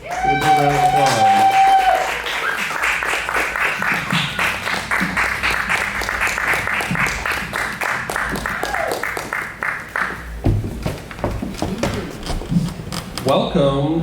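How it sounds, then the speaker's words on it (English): Studio audience applauding a guest's entrance on a chat show, a dense wash of clapping and cheers that runs steadily for most of the stretch, loud and close, with music in the opening seconds and voices rising through it near the end. "give a big round of applause"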